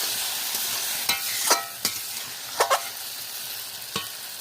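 Spice paste of cumin, ginger, pepper and green and red chilli frying in a pan for a fish curry, a steady soft sizzle broken by several sharp spatter pops, close and moderately loud.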